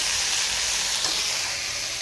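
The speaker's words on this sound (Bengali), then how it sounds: "এখানে হচ্ছে ভেন্ডি ভাজা" Steady, loud sizzling of okra frying in a hot pan, a continuous crackling hiss with no voices.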